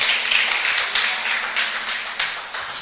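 A church congregation applauds with dense, steady clapping that carries on throughout, moderately loud and without clear talk over it.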